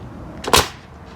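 Nail gun firing into wood trim during a room addition remodel, a single sharp pneumatic snap standing out over quiet room background.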